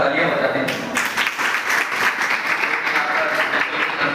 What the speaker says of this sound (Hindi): सबसे पहले तो मैं इस आदर्श परिवार के लिए एक बार जोरदार तालियां बजा दें।